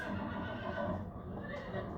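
A horse in Farming Simulator 25 gives a drawn-out neigh over a dense, steady game soundscape, with hoof clops mixed in and no clear talk over it.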